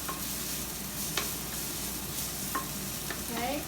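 Onion and garlic fry in a pan for chicken lo mein, a soft, steady sizzle with a few light clicks of stirring utensils against the pan.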